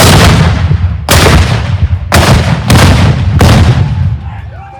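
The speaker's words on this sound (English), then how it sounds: "Gun 1, fire!" Artillery cannons firing at a Fort Belknap demonstration, four very loud booming blasts about a second apart, each with a long rumbling decay, close and overwhelming.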